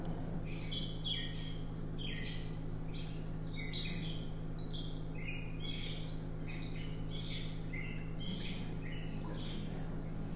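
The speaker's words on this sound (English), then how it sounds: "All right, let's go back to the catbird." A catbird sings in Hulls Gulch, Boise, Idaho, a long run of varied chirps, squeaky mews and warbled phrases coming one after another, clear against a low steady hum of background noise.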